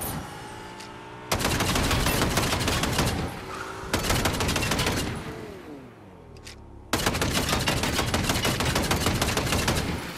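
A turret firing in Fortnite: loud, rapid bursts of gunfire, each a few seconds long, separated by short gaps with quieter background sound.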